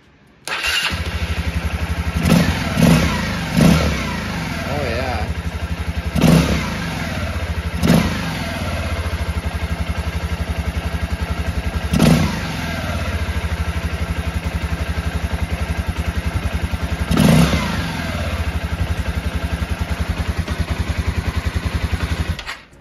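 A Honda XR 150 L motorcycle fitted with a 222cc big bore kit and 27mm carburetor runs steadily up close, its loud engine putting out a continuous throb with a few blips of throttle.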